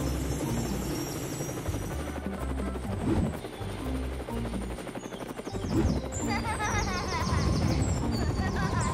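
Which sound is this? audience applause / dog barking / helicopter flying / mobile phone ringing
helicopter flying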